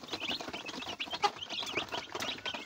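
Day-old broiler chicks chirp in a busy, overlapping chorus of high peeps, close and constant, with no talking.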